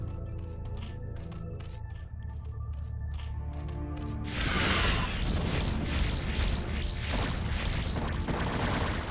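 A low rhythmic hum gives way to a dense barrage of StarCraft: Brood War explosions and bursts as Zerg Scourge attack a Protoss Corsair fleet, loud and continuous, with no voices.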